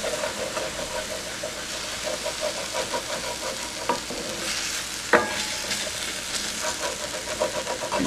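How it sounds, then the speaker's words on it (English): White wine vinegar splashed into a hot pan of browned mushrooms, hissing and sizzling steadily at close range with a few brief sharper crackles and light scraping, no voices. "So I'm gonna deglaze it with 1 or 2 tablespoons of white wine vinegar."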